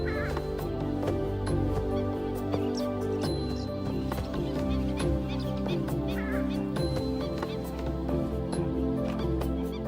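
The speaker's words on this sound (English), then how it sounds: "This is the purple swamp hen, also called the sultana bird, famed for its very loud, explosive call." Loud, harsh honking calls from a purple swamp hen repeat throughout, layered over a dense chorus of other birds and steady background noise.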